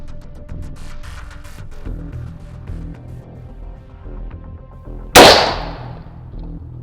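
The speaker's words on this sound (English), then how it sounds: "Let's check it out, see if I can get this shot on target." A single loud, sharp gunshot from a .45 ACP pistol firing a Glaser Safety Slug at gel and drywall, cracking out close over steady background rumble and decaying quickly.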